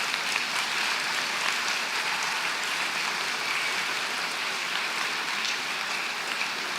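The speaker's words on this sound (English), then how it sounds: "give them a round of applause" A large room of people applauding graduates' parents at a high school graduation ceremony, a dense, even roar of clapping that holds steady from start to finish.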